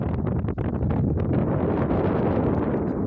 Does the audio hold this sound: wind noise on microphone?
yes